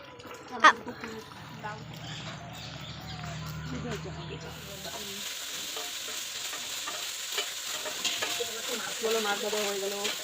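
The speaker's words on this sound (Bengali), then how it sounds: "মাছ ভাজা হয়ে গেল" Rupchanda fish sizzling as it fries in a pan, a bright hiss building after a few seconds, with stirring sounds and people talking nearby.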